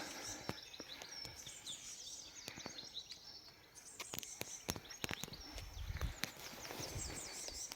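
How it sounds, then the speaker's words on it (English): Faint birdsong chirps in the distance, mixed with footsteps and light tapping sounds in a quiet outdoor setting. "Just listen to the birds as well."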